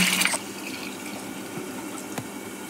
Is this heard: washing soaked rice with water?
yes